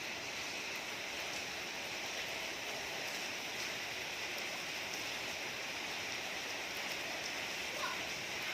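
Rain falls steadily outdoors as a soft, even hiss of drops that holds unchanged throughout, fairly quiet and with no voices.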